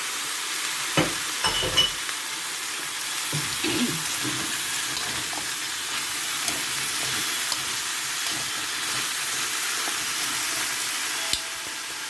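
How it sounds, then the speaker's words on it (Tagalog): Eggplant sizzles and fries in a pan of pork pinakbet with sliced vegetables, a steady close hiss with a few stirring clatters near the start and no talking. "Ilagay ko na din yung talong para sama-sama na lang."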